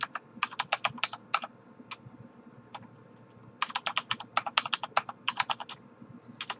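Computer keyboard typing as a password is entered, bursts of quick, close clicking keystrokes with brief pauses between runs and no talking.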